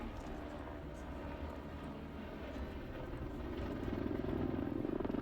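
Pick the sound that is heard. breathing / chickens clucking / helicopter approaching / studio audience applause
helicopter approaching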